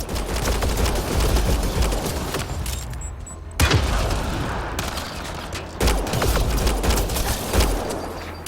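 A chaotic firefight in Mass Effect Andromeda, with loud overlapping gunshots and booming impacts arriving in bursts, broken by a short lull before the shooting resumes.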